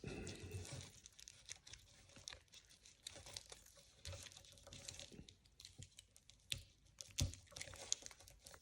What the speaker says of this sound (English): I'm trying to get the stretchy plastic off here without cutting. Well, let me cut it.